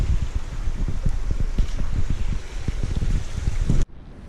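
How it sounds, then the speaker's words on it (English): Steady roar of a waterfall at a trail crossing, broadband and loud, with wind buffeting the mic, cutting off abruptly near the end. "A waterfall crossing."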